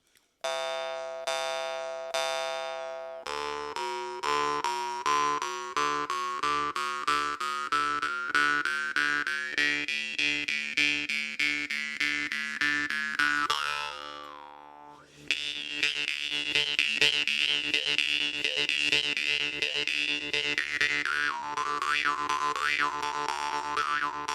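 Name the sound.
jaw harp bell tone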